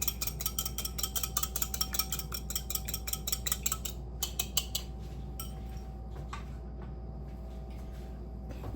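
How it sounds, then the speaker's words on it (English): Egg wash being whisked with water in a bowl with a fork, heard as rapid, rhythmic clicking of metal on the bowl. It is steady for about four seconds, then thins out to scattered taps against a quiet background. "now we're just gonna kind of whisk"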